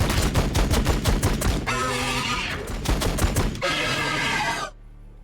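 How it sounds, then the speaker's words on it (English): Rapid gunfire from units in the Warhammer 40k BattleSector video game: a quick run of sharp repeated shots, then two stretches of dense, sustained weapon noise that cut off abruptly into near silence. "Firing on the enemy."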